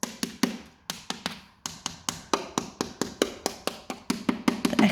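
Knuckles tap on re-pasted wallpaper on a house wall, a steady run of about two dozen sharp, close knocks in short irregular bursts, some sounding hollower than others.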